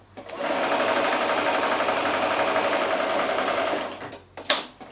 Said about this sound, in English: So I'm going to sew 2 short lengths, or one to each of 2 squares.